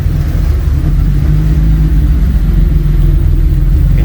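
VR6 engine idling close by with a steady, low, slightly uneven rumble, hunting a little, loud and without talk.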